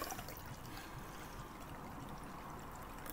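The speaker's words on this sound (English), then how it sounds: "So, in goes the wine." Wine poured into a vessel for Holy Communion trickles as a soft, steady stream, faint and continuous, with no talking over it.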